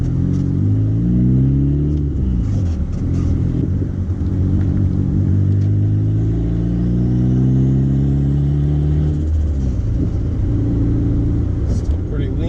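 A turbocharged Honda Accord CD5 engine running lean revs and surges in steady, sustained waves, loud and close, with its pitch climbing and falling as the throttle is worked, and people talking over it at times.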